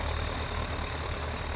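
A tractor engine in Farming Simulator runs off the throttle with a steady, loud low drone and a faint irregular pulsing underneath, continuous throughout.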